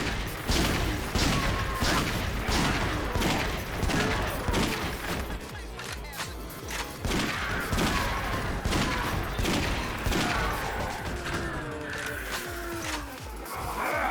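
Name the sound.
pistol shots at zombies in the Yakuza Dead Souls video game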